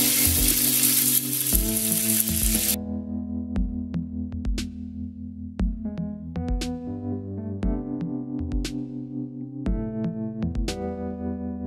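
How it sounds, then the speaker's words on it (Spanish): Chicken breast fillets searing on a very hot griddle give a loud, hissing sizzle that is strongest at first, then drops back to sharp pops and crackles. A strong tonal layer sits over the whole stretch. "Ahora en una plancha bien caliente vamos a asar los filetes de pechuga"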